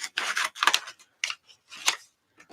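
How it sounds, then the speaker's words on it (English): Scissors snip through paper, cutting printed words out for an art journal: a close series of crisp, rasping cuts in short bursts with brief pauses between them. "I think what I'm going to do is cut out a section of these words."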